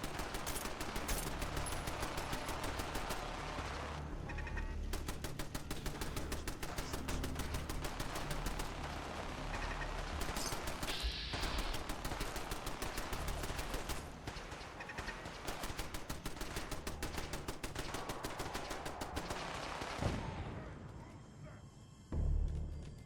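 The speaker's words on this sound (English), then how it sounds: "somebody has a minigun over there" Rapid sustained bursts of minigun fire in Fallout 4, loud and dense with brief pauses, broken by a few rattling breaks before cutting off near the end.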